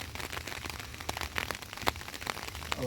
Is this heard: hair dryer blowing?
no